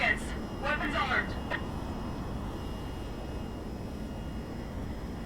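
A jet in the VTOL VR flight game gives off a low, steady, distant-sounding engine drone. A short burst of voice or cockpit callout is heard over it at the start.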